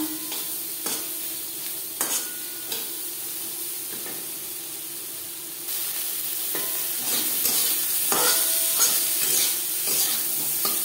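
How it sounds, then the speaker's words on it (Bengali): Turmeric, salt, pointed gourd and drumstick pieces sizzle in a pan while being stirred and mixed, with a steady frying hiss and occasional scraping knocks of the spoon, growing slightly louder midway, close and without talk. "লবণ হলুদ পটল ও ডাটার সাথে বেশ ভালো করে মিক্স করে দেবো"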